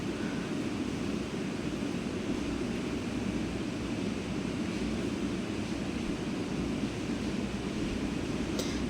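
Chili chicken simmering in a little added water in a home kitchen pan: a steady, even bubbling hiss holds at a constant level throughout, with no talk.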